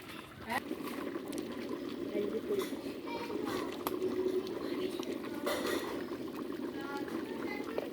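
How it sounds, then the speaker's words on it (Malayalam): Meat curry for Tamil Nadu-style dum biryani bubbles gently in a covered pot, a steady, soft simmering fizz and patter that runs throughout, with a voice speaking over it. "ചെറുതായി തിളച്ച് വരുന്നുണ്ട്"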